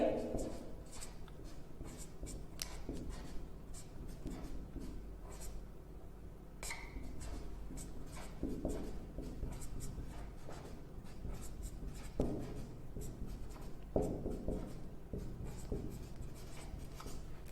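Pen scratching on a page during a glycolysis lesson, written out as repeated short strokes and taps with brief pauses between, close and fairly quiet, with speech at moments.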